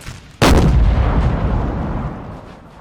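A massed musket volley from troops in the Napoleonic strategy game Napoleon Total War erupts as one loud crash, then rumbles and fades slowly over a couple of seconds.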